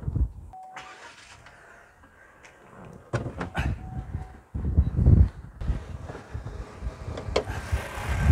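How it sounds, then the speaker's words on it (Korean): A Chevrolet The Next Spark LT Plus, a small three-cylinder car, is started: clicks and clunks at first, then the engine catches and settles into a steady idle. "시동을 걸어서 엔진으로만 보여드릴게요"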